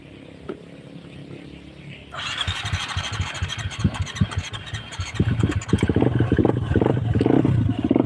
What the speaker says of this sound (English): Let's see if I can start this bike.